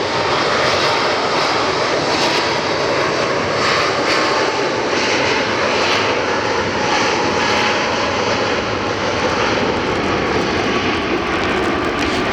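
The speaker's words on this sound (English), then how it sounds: "Spirit Wings 2800, I believe I said it was, heading to Pensacola, finally taking off." A Spirit Airlines jet taking off at Fort Lauderdale airport, bound for Pensacola, roars loud and continuous with a broad, unbroken engine rush that holds steady throughout, heard from nearby without talk.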